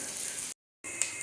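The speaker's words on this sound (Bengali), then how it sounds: "পেঁয়াজ দিয়ে কিছুক্ষণ নাড়াচাড়া করবো আমরা।" Chopped onions sizzle steadily while being stirred in a frying pan, a continuous close hiss broken by a brief gap before the frying resumes.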